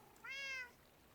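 A single short cat meow from Minecraft, one clear tonal mew, quiet against soft background ambience.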